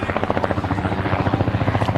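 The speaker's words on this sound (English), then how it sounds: "Got an Aerovac helicopter going over side here, the field." An Aerovac helicopter passes over a baseball field during a high school conference game, its rotor beating in a loud, steady, fast thump with a droning buzz and no pause.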